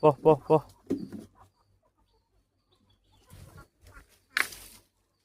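Sharp, repeated guinea fowl calls in a rapid burst at the start, followed by scattered calls and a louder squawk near the end, with a voice mixed in.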